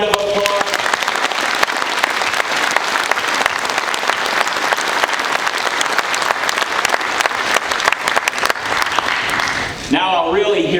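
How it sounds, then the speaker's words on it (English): A crowd applauds at a submarine veterans' club induction ceremony, loud, sustained clapping from many hands that holds steady for about ten seconds before a voice begins speaking. "let's give them a round of applause"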